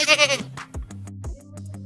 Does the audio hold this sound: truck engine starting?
no